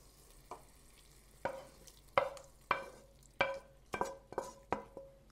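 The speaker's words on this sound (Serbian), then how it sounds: "I pržimo sve zajedno dok džigerica ne bude gotova." Chicken liver fries in a pan with paprika, tomato paste and hot water, giving a low sizzle broken by a series of sharp clinks and scrapes of a utensil against the pan at a steady, uneven rhythm.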